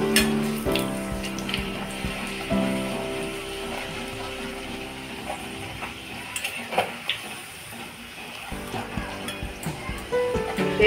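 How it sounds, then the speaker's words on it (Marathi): Sakharpoli sugar flatbread frying in oil, a moderate bubbling sizzle with occasional utensil clinks and scrapes, fairly close, briefly quieter midway before picking up again. "आता हे तळून घेऊया"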